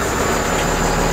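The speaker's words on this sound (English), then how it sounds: "Start engine." An engine with a grid heater runs with a steady, close, continuous rumble and hum for just over a second, with no pauses or voices.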